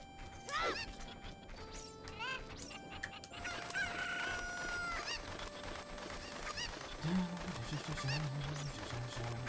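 Repeated chicken clucks and squawks from the Legend of Zelda Ocarina of Time game come in quick bursts at the start, then a faint call later over continuous game music.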